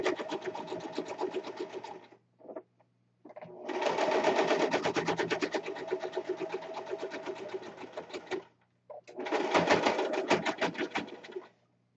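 A sewing machine stitching a corset runs in three long bursts of rapid, even needle clatter, close and loud, separated by brief pauses with small clicks.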